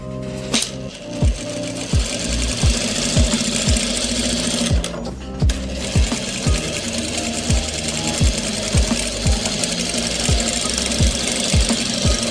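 An electric sewing machine stitches a kurta's side seam in steady close-up runs, its needle thumping rhythmically with a brief pause and restart partway through.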